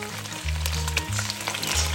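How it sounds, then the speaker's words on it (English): Garlic sizzles in a pan with shrimp, a bright crackling fry that holds steady, under a low intermittent hum. "So here we have the garlic is roasting, and we add some shrimp"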